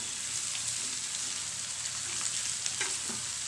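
Brinjal pieces, already salted, sauteing in oil in a pan for an ennai kathirikai poriyal, giving a steady close sizzle with a few soft stirring scrapes near the end.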